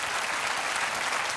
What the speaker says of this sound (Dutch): Geef een applaus, Jane.